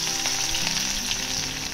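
Fifteen to twenty crushed garlic cloves dropped into hot oil for a tempering sizzle loudly and steadily, a close, dense crackle that carries on without pause and without any voices.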